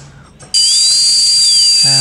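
A cartoon dentist's drill in a Peppa Pig video game kicks in with a loud, steady high-pitched whine that wavers slightly in pitch and runs for about one and a half seconds before cutting off.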